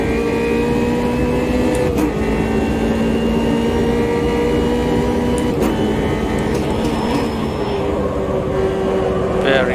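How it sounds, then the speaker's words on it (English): A race car in Automobilista 2 drops quickly down through the gears to third for a right-hander, the engine note stepping and blipping under steady sustained engine and road noise with a commentator talking over it. "Very fast gear changing down to the third for this right-hander."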